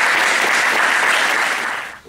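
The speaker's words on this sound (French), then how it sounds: "on peut applaudir quand même" Audience applause at a judo club fills the space with dense, steady clapping for about two seconds, then tapers off abruptly at the end, with no talking over it.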